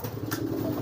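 Pigeons being trained by a keeper give soft, close cooing in a steady rhythmic pulse, with a brief light tap partway through.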